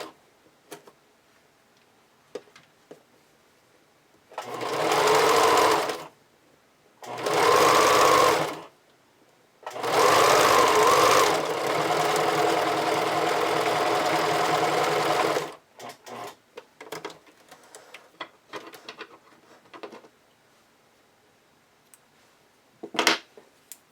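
A sewing machine stitches along the lower edge of elastic on lace fabric in three loud, close bursts of rapid whirring, the last one longest, separated by pauses and followed by faint handling ticks.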